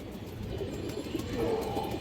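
A silver bagha female pigeon coos nearby, soft throaty calls rising and falling without pause while other birds murmur faintly around it and no one speaks.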